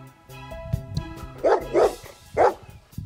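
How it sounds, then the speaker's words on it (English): A dog barks three times in quick succession, sharp and fairly close, over a soft musical backing in a children's alphabet recording. "Dog."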